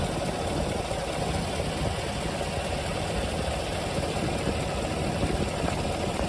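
A 2023 Chevrolet 4500 LCF box truck's gasoline engine idles steadily, a constant low rumble with faint mechanical ticking that holds even throughout, heard alone with no talking.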